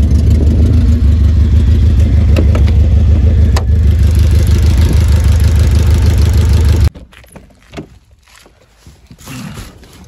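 The worn old engine of a homemade creeper vehicle with no compression runs at a loud, steady, rumbling idle close by, then shuts off abruptly, leaving faint clanks and rustling.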